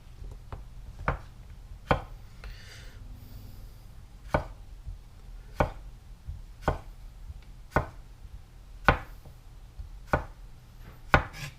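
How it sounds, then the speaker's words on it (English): A knife chops food on a cutting board in slow, evenly spaced single thuds, about a dozen crisp close strikes with quiet pauses between. "So I have to trim a little more of that end off."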